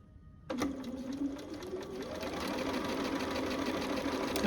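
A sewing machine stitching a fabric quilt block up to the seam line starts abruptly and runs as a steady close hum with a fast rhythmic clatter, alone without talk.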